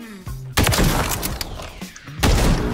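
Gunfire from Modern Warfare 3 in a search-and-destroy match, with two loud, sharp shot bursts and their echoing tails separated by a quieter gap. Clipped game sounds surround them.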